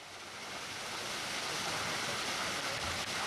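A waterfall at the end of a short trail roars as a steady, dense rush of broadband noise, loud and constant throughout, with no voices.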